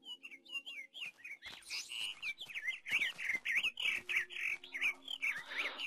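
Birds in Minecraft with the Mo Creatures mod chirp and whistle in quick, bright, overlapping calls, trilling and tweeting continuously at close range with occasional faint clicks beneath.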